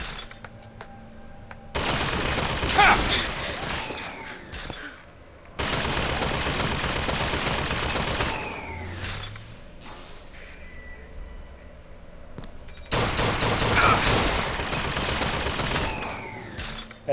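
Automated turret fire in Bioshock Infinite's Hall of Heroes, loud sustained bursts of rapid gunfire in three long stretches, separated by quieter gaps with scattered game effects.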